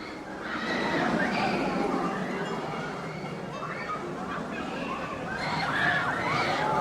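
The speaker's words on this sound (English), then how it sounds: "Oh, look at the horse carriage." A horse whinnies near a horse-drawn carriage at Knott's Berry Farm, with a few soft hoof clops among park crowd murmur and people talking nearby.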